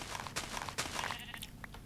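Bleating from a sheep in the Minecraft video game, a few brief muffled calls under a busy, clattery game soundscape, with no voices.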